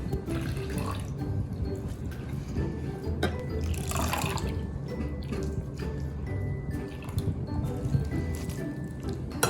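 Water draining from grated potatoes through cheesecloth set over a strainer in a kitchen, a steady close trickling and dripping with a brief splashy surge midway.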